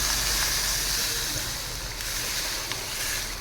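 Water coming to a boil with sugar added for homemade honey, a constant broad hiss and bubbling roar, loud and close, steady throughout with no talking.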